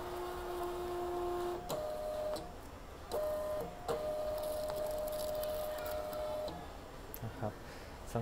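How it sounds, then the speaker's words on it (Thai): Birch DP-4432B label printer feeding stickers during calibration, a motor whirring in steady stretches with clicks between feeds, while someone talks over it. "ถ้าเกิดว่าเรากดปุ่มข้างบน1ครั้งสติกเกอร์จะต้องไหลออกมาทีละแถว"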